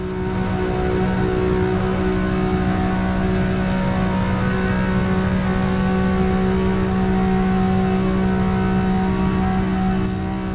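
A Ferrari 365 GTB4 holds flat out at top speed at Le Mans, its engine a steady, loud, sustained drone with strong harmonics and no gear changes, running alone for the whole stretch.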